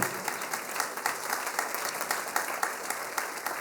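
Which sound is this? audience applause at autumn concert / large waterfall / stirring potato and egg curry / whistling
audience applause at autumn concert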